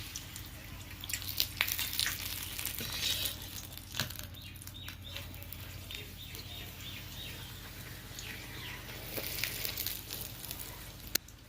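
Spinach paratha frying in white oil on a pan, a steady close sizzle and crackle running throughout with faint scraping from stirring or pressing.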